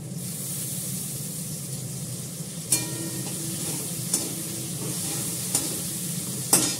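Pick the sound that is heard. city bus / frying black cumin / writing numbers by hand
frying black cumin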